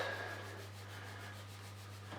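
Sand sprinkled onto a vibrating circular Chladni plate makes a faint, continuous granular hiss over a low steady hum, with no voices.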